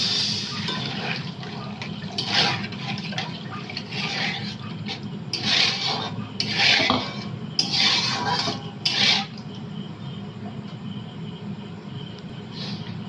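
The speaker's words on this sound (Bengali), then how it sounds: "এবার আমি জল দেবো জল দিয়ে দিচ্ছি" Water is poured into a hot pan of rohu fish and potato curry base, making a steady hissing, bubbling wash with several louder surges of sizzle over roughly nine seconds before settling into a softer simmer.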